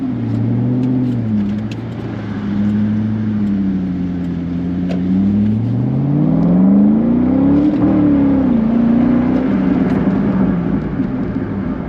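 A 2006 Chevrolet Corvette C6 engine pulls hard onto a freeway, its deep drone rising and falling through revs as it climbs steadily, loud and close from inside the car.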